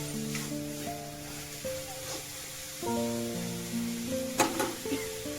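Vegetable patty filling is sautéed in a pan, giving a soft, steady sizzle with occasional stirring scrapes, heard beneath louder background music.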